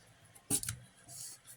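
A single cut is made through the insulation of large-gauge wire during stripping: one short, sharp snip near the middle, with faint handling sounds before and after.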